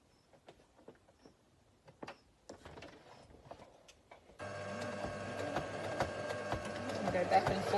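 After soft clicks and fabric handling, a sewing machine starts up and runs steadily with a loud mechanical whir until the end, straining while sewing a fabric mask.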